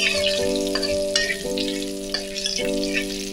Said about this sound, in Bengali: একটুখানি আমি এটাকে ভেজে নেবো, একটা সুন্দর ভাজা ভাজা স্মেল আসবে